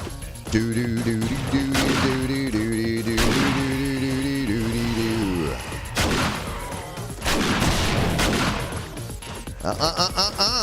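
Heavy gunfire in 7 Days to Die with the End Z mod during a horde night, rapid loud bursts of shots over game music and noise, with a voice talking at times.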